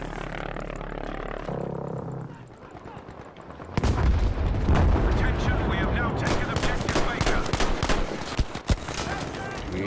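Gunfire in Battlefield V, a dense burst of rapid shots after a quieter opening stretch, with sharp cracks repeating through the second half over loud battle noise.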